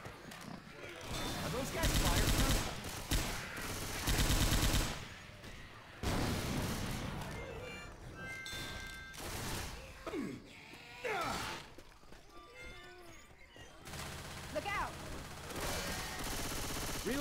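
Bursts of video game gunfire from a shooter match, loud broadband volleys repeating across the stretch with quieter gaps, mixed with game voices and effects.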